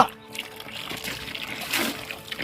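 Water from a hand pump splashes and gushes in short bursts close by, a wet, sloshing sound with a faint voice in the background.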